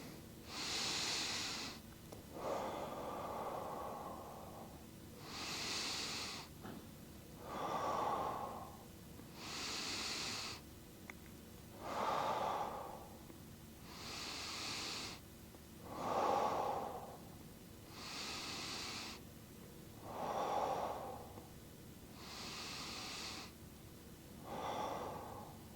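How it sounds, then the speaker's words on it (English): Slow deep breathing during a seated stretch, about ten long paired inhales and exhales in a steady rhythm, the airy rushes close and fairly soft, with no talk between them. "we're gonna go into those 10 deep breaths"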